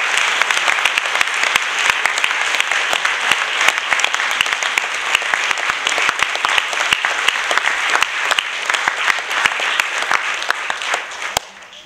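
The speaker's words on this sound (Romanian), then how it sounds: "Personajele principale vor primi aplauze." Theatre audience applauding the main characters at the end of a stage play, sustained rhythmic clapping from a full house with sharp individual claps standing out, steady for over ten seconds before tapering at the end.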